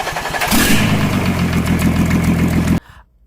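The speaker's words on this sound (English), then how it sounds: "I love hearing the roar of the engine." A gasoline engine starts and roars close and loud, settling into a pulsing idle with a throaty rumble for a couple of seconds before cutting off abruptly into near silence.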